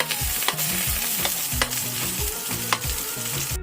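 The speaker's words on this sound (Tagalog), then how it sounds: "Kaya ilagay natin yung sibuyas." Onion and ginger frying in a pan for arroz caldo, a loud steady sizzle with periodic spatula scrapes and stirring clatter close by, no voices.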